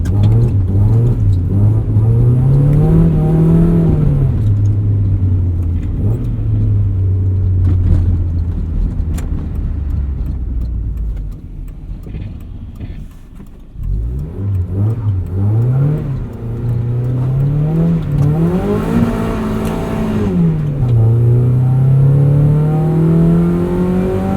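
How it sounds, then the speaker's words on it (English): Mazda Miata driving on a snowy, rutted winter road, heard from inside the cabin: a loud engine rising and falling through the gears, with a brief dip and lull midway before it revs up again. "the car follows the ruts of the road just like kind of any vehicle would in the snow"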